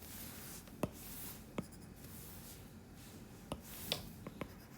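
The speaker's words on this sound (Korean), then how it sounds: "공식이 여기다 조그맣게 써볼게요" Pen strokes scratch out a math formula by hand, faint and close, in short irregular taps and scrapes over quiet room noise.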